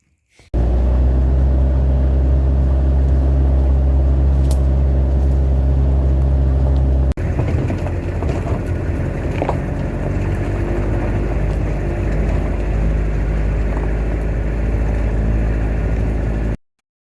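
A vehicle engine rumbles steadily and loudly on a ride from a village back to town in rural El Salvador. The tone shifts partway through, as if changing gear, and the drone continues without talk.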